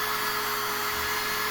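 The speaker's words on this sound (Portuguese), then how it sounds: "Você fez um pequeno furo aqui na placa, aqui na quina." A small hand drill bores a hole into the corner of a circuit board for a homemade remote control, giving a steady, close, whirring motor whine with no break.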